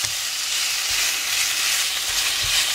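Chicken pad see ew sizzles steadily in a hot pan as it is stir-fried, a loud close hiss broken by occasional soft scrapes and thumps of stirring.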